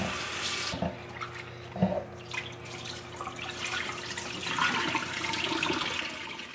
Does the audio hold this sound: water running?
yes